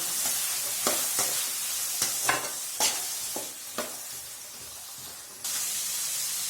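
Potato and bean pieces sizzle steadily in a hot pan while a spatula stirs them in several scraping strokes. The frying hiss runs continuously, close and moderately loud.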